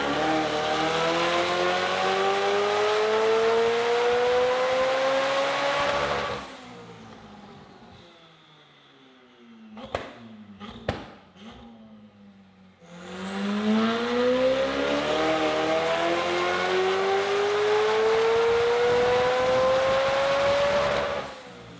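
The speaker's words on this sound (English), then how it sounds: "Like sonic booms. It's because it's got stainless steel exhaust." A Porsche GT3 with a thick stainless steel exhaust revs hard and loud in two long rising sweeps, with a few sharp cracks and pops during a quieter lift-off gap between them.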